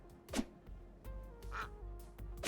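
A few short duck quacks from the video game Necesse, spaced out over soft background game sounds, no talking.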